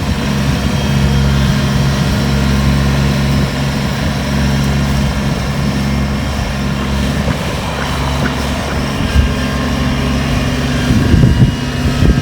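A steady, loud low engine drone from a Kubota tractor runs throughout, running nearby, with a slight rise near the end.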